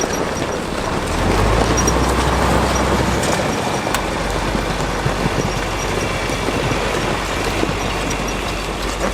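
A 1929 Dodge engine turning over while being towed, a loud, steady mechanical churning and rumble that runs throughout without a break.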